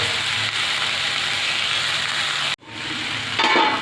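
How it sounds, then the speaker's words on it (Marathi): Methi (fenugreek) bhaji frying in a pan gives a loud, steady close sizzle, cut by a brief break as it is stirred, then the hiss returns with a faint scrape near the end. "आता एकदा हलवून घेऊया"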